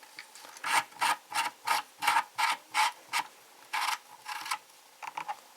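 A Century International Arms M92/M85 booster muzzle device is twisted onto a threaded barrel, giving a series of close, rhythmic metallic rasping scrapes with short pauses between turns, with no voices.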